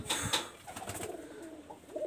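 Pigeons from a Shiyalkuti master breeding pair coo in low, soft murmurs across a short stretch, with sharp clicks and a faint high tone early on.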